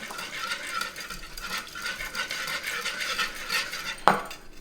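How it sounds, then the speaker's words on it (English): A whisk beats lemon juice into Caesar salad dressing for a kale salad, giving quick, continuous metallic scraping and stirring against a bowl, with one sharper clink near the end and no voices. "And our next ingredient is going to be lemon juice. Whisk that in."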